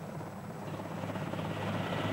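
A Bell JetRanger helicopter flies over jungle, its rotor and engine making a faint, steady droning hum that holds at an even distance throughout.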